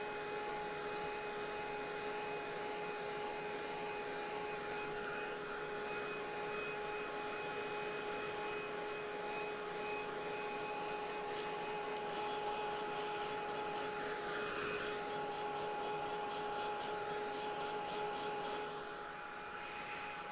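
A dryer blows over a watercolor painting of tall grasses, a steady, close whirring drone with a faint whine that holds evenly and eases off slightly at the very end.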